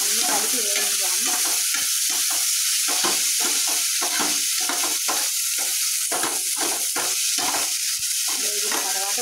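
Chopped vegetables and green chillies frying for upma make a loud, continuous sizzle in a close pan, broken by repeated rhythmic scrapes of stirring, with no voices.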